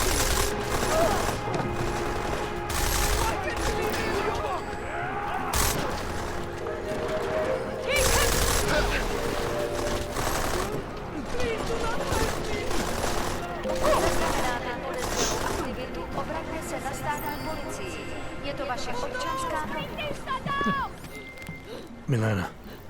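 Gunfire in the video game Deus Ex: Mankind Divided, with repeated bursts of shots rattling through dense game sound and a voice talking over much of it.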